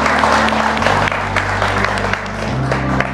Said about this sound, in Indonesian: Tepuk tangan untuk Coach Indra Safri.